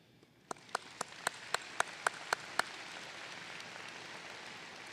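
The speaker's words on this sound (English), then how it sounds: "Graduates, give yourselves a round of applause" Graduates applaud at a 2018 commencement ceremony. About nine sharp, evenly spaced claps lead into a broad wash of steady, fairly distant applause.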